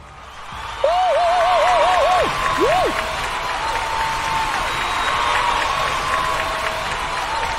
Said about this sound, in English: And the crowd is going crazy, it's going nuts.